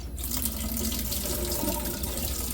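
Rice is rinsed in a strainer under a running kitchen tap, giving a continuous close splashing rush of water that stays steady from start to finish.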